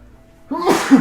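One close, loud sneeze bursting out suddenly after a moment of near silence.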